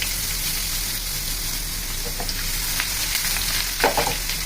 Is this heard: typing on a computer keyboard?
no